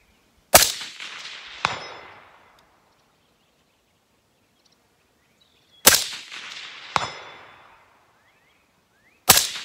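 Primos Trigger Sticks shooting stick legs released, giving sharp metallic clacks and a brief sliding rattle, in two pairs of snaps separated by quiet, plus one more snap at the end.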